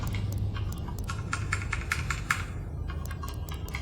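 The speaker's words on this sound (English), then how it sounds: "when I press escape on my keyboard, nothing is happening" Keys pressed on a computer keyboard, a run of sharp, close clicks in quick irregular succession over a low steady background hum.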